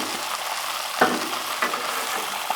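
Bacon strips frying on a Blackstone griddle give a steady, broadband sizzle with a few sharp crackles and pops scattered across it, close up and unbroken by voices.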